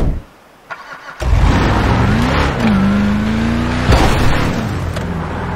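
A car in GTA 5 starting up and driving into a security guard: a sudden loud engine burst, then a steady revving drone that pitches up and holds, with a sharp thump partway through and no talk.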